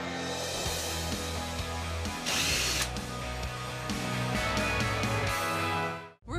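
A power drill drives screws while a towel holder is mounted, loud close whirring runs in repeated bursts with ratcheting clicks and a brief higher whine, then cuts off at the end.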